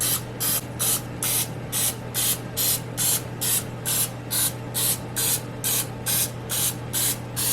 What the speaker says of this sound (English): So I just like very lightly spray with canola oil spray